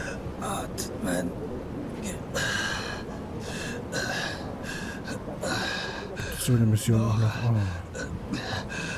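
A character in the video game Far Cry 4 gasps for breath in short, sharp heaving pulls near the end, while someone talks over the game audio throughout.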